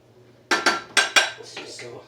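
Salted food is stirred and broken up in a metal pot at home, a spoon striking the sides in four sharp, close clanks followed by softer scraping and tapping, with no one talking.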